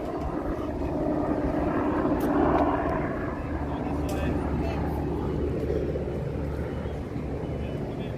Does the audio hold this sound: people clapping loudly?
no